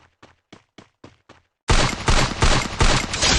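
Rapid bursts of video game gunfire erupt suddenly and loudly after a short run of quiet clicks, then continue as dense, repeated volleys to the end.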